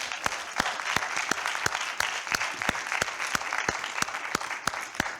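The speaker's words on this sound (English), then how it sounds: "Well, since y'all clapping, why don't you just start clapping for yourself?" Audience clapping together in a steady, evenly spaced rhythm of sharp claps over a soft bed of crowd noise, heard at a leadership tour event.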